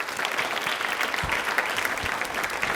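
A studio audience on a Rajasthan quiz show claps steadily and fairly loudly, a dense, continuous patter of many hands with no pause.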